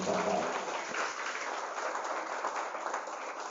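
An audience applauds at a motivational seminar for students of the Darul Azhar Islamic boarding school in Cianjur: a dense, continuous wash of clapping from many hands, steady from start to finish.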